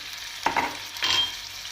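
Two short bursts of sizzling as thinly sliced chicken breast hits a hot oiled pan, a sharp hiss then a second crackle, close and with no talking.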